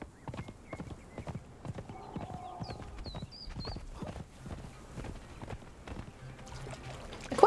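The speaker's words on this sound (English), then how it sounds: "I quite like the horse for this playthrough, though." Horse hooves clip-clop in a steady walking rhythm in the Conan Exiles video game, fairly quiet and close, with a faint whinny-like call and trickling sounds in the background.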